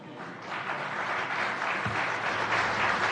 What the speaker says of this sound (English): You give speeches and you quote someone else and immediately everyone applauds.